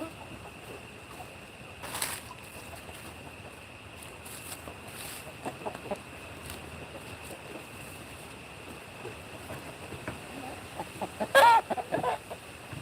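Farm chickens cluck in short, scattered bursts over quiet background noise, with a louder flurry of clucking near the end.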